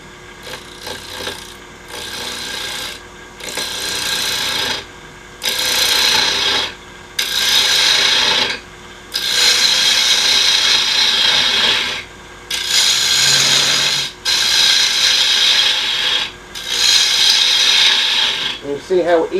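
A carbide cutter turning a dark birch bowl on a wood lathe: repeated loud raspy scraping passes, each a few seconds long, separated by brief pauses over the hum of the spinning lathe.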